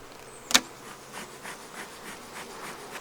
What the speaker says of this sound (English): all the bees are coming home